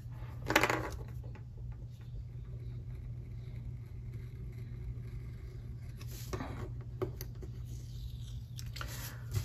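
Scissors snip through a planner sticker for a Big Happy Planner spread: a sharp close cut near the start, then a couple of faint snips later, all over a steady low hum with no talk.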